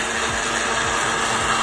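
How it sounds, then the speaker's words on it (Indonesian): An electric blender whirring steadily as it blends a Nescafe mocha drink made with oat milk, one loud continuous motor drone with no pauses. "Lepas tu ready for blender."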